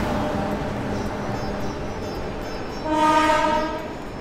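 Passenger train passing through an Indian railway platform, a steady rumble of wheels and carriages followed by a loud sustained horn blast near the end.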